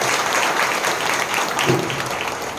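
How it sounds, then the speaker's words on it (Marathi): Audience applause in a women's day gathering honouring Savitribai Phule, a steady crowd of clapping sustained throughout at moderate loudness. "त्या क्रांतीज्योती सावित्रीबाई फुले या आणि इतर महानायकांसाठी सगळ्यांनी एका जोरदार टाळ्या वाजवायच्या"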